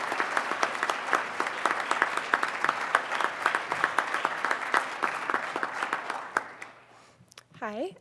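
Steady applause from an audience welcoming a speaker at an honoring ceremony, dense overlapping claps that thin out and fade after about six seconds, followed by a brief voice near the end.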